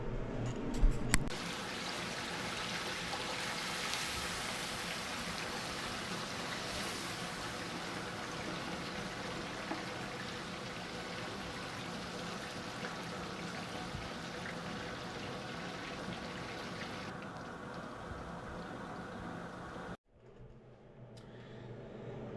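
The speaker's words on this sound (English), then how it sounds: "So let's go pull it out of the grease, see what it looks like" A whole fried turkey is lifted out of hot frying grease, with a long, steady rush of bubbling and dripping oil that holds evenly for about twenty seconds before cutting off to quieter background.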